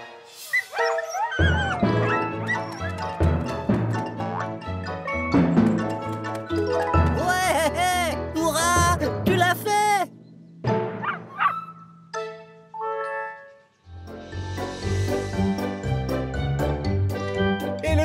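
A small female cartoon dog yips and barks in quick bursts over lively orchestral cartoon music, the barks sharp and close amid busy musical phrases.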